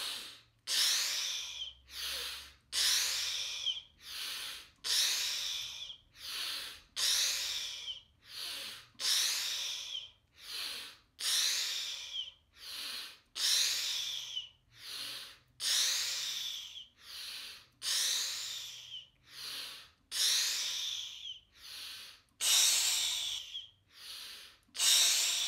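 A breathwork exercise with about twenty deep, forceful breaths in a steady rhythm, each inhale and exhale a rushing, hissy burst separated by short pauses, close and clear with no talking.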